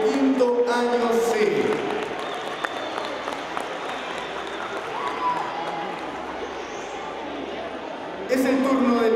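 Audience applause at a school talent show, a steady wash of clapping from a crowd filling the room for several seconds, with a brief swell of voices and rustle near the end.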